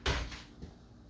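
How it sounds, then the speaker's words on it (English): A drawer stuffed too full being forced open, one loud jarring bang followed by a scraping rattle and a smaller knock as it gives, close and sudden. "I got too much stuff up in this drawer. I can't get my drawer open."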